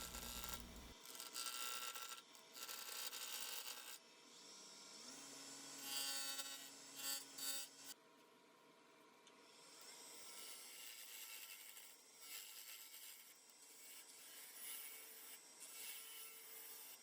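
Maple turning on a wood lathe while the tenon is cut away, giving steady scraping and rubbing tool noise with brief bursts and shifts in tone, continuous and close throughout.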